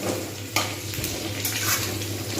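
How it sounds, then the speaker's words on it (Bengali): Potatoes with fenugreek being stirred in a frying pan, a steady hiss of frying under scraping spoon strokes, with a few sharper clatters, close and fairly loud, with no talking. "আমি এবার নাড়িয়ে দেবো। এটা কিন্তু অটোমেটিক্যালি আলুর সঙ্গেই ভাজা হবে।"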